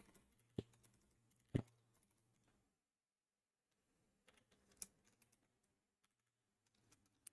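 Quiet clicks of typing on a computer keyboard, in short irregular bursts with a couple of sharper key strikes and a pause midway, no voices.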